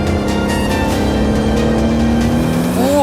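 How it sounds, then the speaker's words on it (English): A BMW M4 Competition drives past with a loud, steady engine drone, its pitch rising sharply near the end as it accelerates, heard close and alone without talk. "Oh, this car is mega, man."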